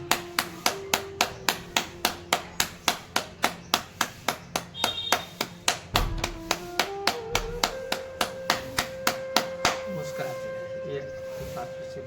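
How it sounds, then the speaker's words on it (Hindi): Hands clapping in a yoga exercise session, a long series of sharp, regular claps at a steady brisk rhythm, later continuing under a sustained voice. "एक बार पुनः ताली कर लेते हैं।"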